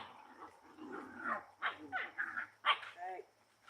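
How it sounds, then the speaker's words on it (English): Hungry dogs bark and whine in short bursts close by, mixed with a person talking over them indoors. "My dogs are screaming, they're hungry."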